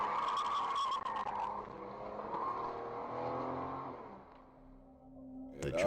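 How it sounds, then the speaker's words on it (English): A car speeds away through a busy city street with tires skidding and squealing, engine revving loud and close, then fading out as it pulls off. "which of course would force the driver to step on the gas and get out of there"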